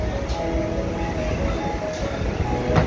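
Inside a stationary passenger train shortly before departure, a low steady rumble and hum of the carriage holds throughout, with faint clanks and brief hisses but no loud talk.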